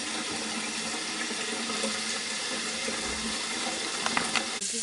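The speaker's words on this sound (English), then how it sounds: "I'm just going to fill that up with water" A big cooking pot fills with water from a tap for making Wensleydale cheese from raw sheep's milk, a steady loud rushing stream that runs throughout with a few small clinks near the end.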